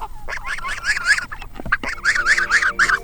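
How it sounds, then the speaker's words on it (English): A free-range farm goose honks loudly and close by in two quick bursts of repeated nasal calls, separated by a short pause filled with scratchy movement. "Yo, Mr. Goose."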